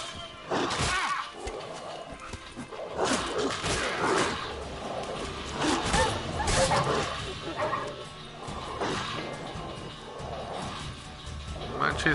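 Dogs bark, yip and whimper in combat in The Witcher 3, with repeated sharp barks and crashing hits over busy game audio, and a player talks throughout.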